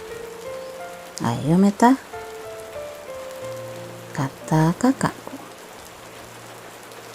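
Heavy rain pours steadily and evenly over two people walking home along a railway track, with voices speaking over it in a few short bursts.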